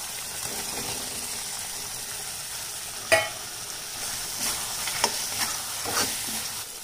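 Wet cashews sizzle gently in a simmering gravy in a home kitchen pan, with a steady low frying hiss broken by a few sharp scrapes and stirs of a spoon, close and alone.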